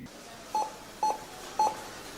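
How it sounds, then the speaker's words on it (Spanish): Three short electronic beeps from a checkout barcode scanner at the same pitch, evenly spaced about half a second apart, clear against a quiet background. "ese famoso beep que suena cuando escanean el producto en la caja registradora"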